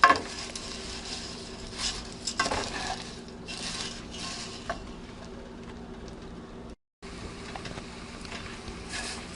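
Vermicelli (semai) stirred as it fries in a pan for sweet jorda, soft sizzling under clinks and scrapes of a utensil against the pan, with a short silent gap near the end.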